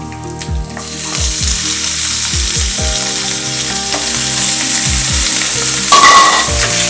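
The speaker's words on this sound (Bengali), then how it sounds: "এবার আমরা এর মধ্যে চিকেন ধুয়ে রেখেছিলাম ওটাকে এর মধ্যে ঢেলে দিচ্ছি।" Washed chicken pieces tipped into a hot pan of lightly fried garlic for a chicken stew, producing a loud sustained sizzle and hiss. Repeated low thuds and scrapes run through it, and there is no speech.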